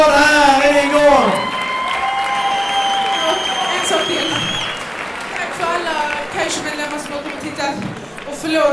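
Crowd applause and cheers at an MMA event, with a loud voice over a sound system and dense clapping underneath.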